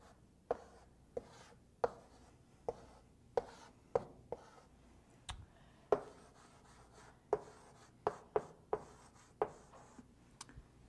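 A pen or pencil writes out calculus work on paper, giving a series of sharp, close taps and strokes roughly every half second to a second, quiet between marks and with no voice.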